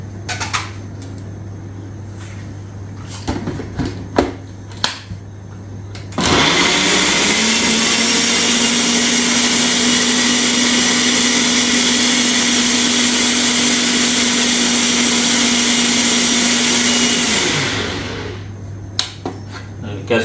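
A kitchen blender purees tomato, ginger and garlic with water into a fine paste, a loud steady whirring roar running about eleven seconds, with clicks and handling noises before and after.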